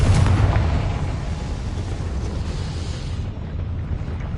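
A Confringo fire spell blasts in Hogwarts Legacy, a loud fiery burst at the start that settles into a sustained roaring, crackling rumble, with no talk.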